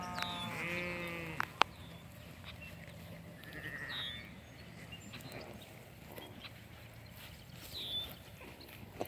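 Sheep bleat while grazing on weeds in a field, with several short bleats spaced a few seconds apart, some near and others farther off, over a quiet outdoor background.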